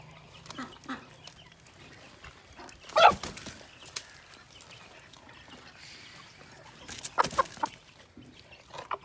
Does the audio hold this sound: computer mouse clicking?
no